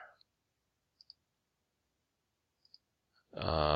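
Several faint, sparse computer mouse clicks, some in quick pairs, spaced across a quiet room before a louder sustained sound starts at the very end.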